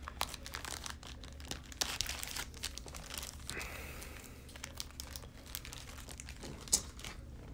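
Crinkling and crunching of a plastic wrapper being torn open on a retail pack of football cards, close and continuous with sharp crackles and a few louder snaps, no talking.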